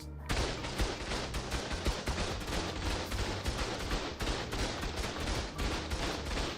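Dense, rapid automatic gunfire from auto turrets in the video game ARK, a relentless overlapping barrage of shots that keeps up without pause.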